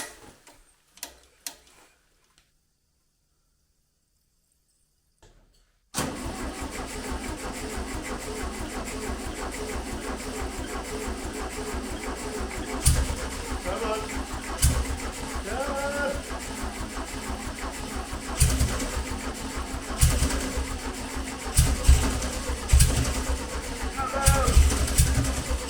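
1971 VW Beetle engine with a tired starter, cranking and then running after several seconds of near silence: a steady close mechanical drone with a ticking undertone and periodic louder revving bursts.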